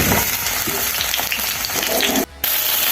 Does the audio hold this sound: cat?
no